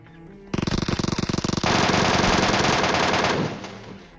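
MK14 fire in a battle royale video game: a rapid burst of loud, close shots lasting about a second, then a longer dense roar of continuous gunfire that fades out near the end.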